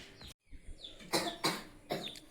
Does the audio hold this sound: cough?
yes